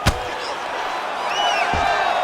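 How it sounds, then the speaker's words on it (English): Arena crowd at a UFC heavyweight tournament final roars in a sustained, loud wash of cheering and whistles, with a sharp thud at the start and another impact near the end. "big pop from the crowd as they get back to their feet"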